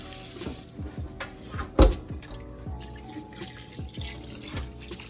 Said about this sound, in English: Drain it off in the sink here.